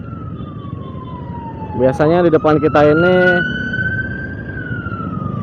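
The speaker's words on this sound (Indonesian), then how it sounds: "Nah, ada ambulan juga." Ambulance siren wailing in slow-moving Bogor street traffic, heard from a motorbike as a steady tone with a brief loud burst of blasts in the middle, under talk and engine rumble.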